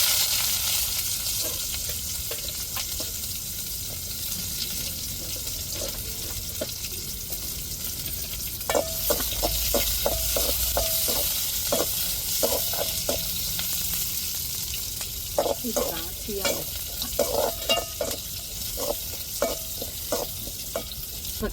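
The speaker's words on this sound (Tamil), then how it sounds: "இப்போ எண்ணெய் சூடேறிட்டு கடலில் சேர்த்துக்கிடுவோம் இப்போ வெங்காயம் சேர்த்துக்கிடுவோம்" Chana dal and onions sizzle in hot oil in a pan, a steady frying hiss broken by bursts of spoon scraping and stirring clinks, and no one speaks.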